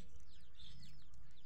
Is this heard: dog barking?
no